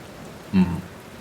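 Rain falls as an ambient effect in a horror story, a soft, steady hiss with one brief louder splash-like thump partway through.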